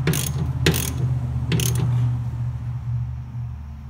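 Wrench tightening bolts on a New Holland baler, a few sharp metallic ratchet clicks and clanks in two short bursts over a low steady machine hum, close and fairly loud.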